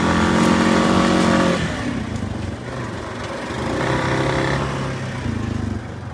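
A Honda Rubicon 520 DCT EPS ATV runs in low range in cold weather, its engine droning steadily nearby with a few audible shifts in pitch as the dual-clutch transmission changes gear, and no one speaks.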